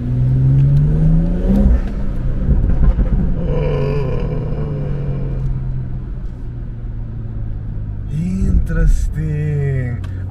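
BMW M240i under hard acceleration, engine rumbling and revving loudly with bursts of exhaust crackle, voices talking over it in the cabin throughout.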